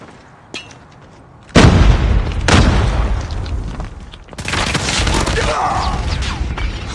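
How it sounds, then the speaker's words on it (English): A grenade explodes in a tactical shooter game with a heavy close boom and a rumbling tail, followed by a second blast and sustained low roar, with a faint click just before. "Grenade out!"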